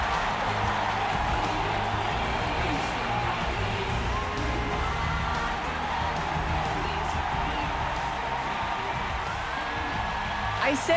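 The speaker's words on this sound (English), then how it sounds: "Everybody cheer!" Crowd cheering in Final Fantasy XIV: Dawntrail, a dense, steady wash of many voices with whoops and shouts, sustained at an even loudness throughout with no gaps.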